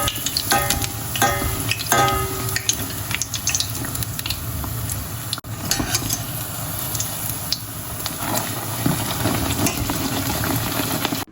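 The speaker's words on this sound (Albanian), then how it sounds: "Besoj të skuqim të gjithë pjesën e mbetur nga petullat." Milk pancakes (petulla) sizzling in a pan with a steady, bubbling crackle and spatter running throughout, close and fairly loud, with no talking.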